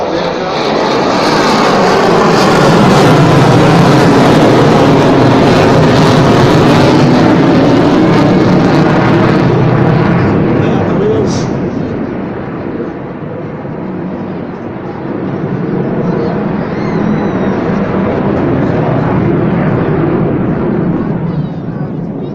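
A fast jet at the Malta air show roars loudly and continuously, the engine noise swelling and easing as it passes, with a brief dip partway before building again.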